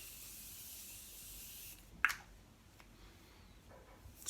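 A quick, sharp burst of makeup setting spray stands out against a quiet background, followed by a soft fading hiss and faint rustling.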